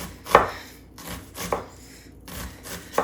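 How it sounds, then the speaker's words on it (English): An onion is chopped with a knife into a pot for hamburger soup, with a few sharp, evenly spaced cuts against the board, each followed by a short scraping rustle, close up. "I'm going to go ahead and cut my onion and get it right into the pot"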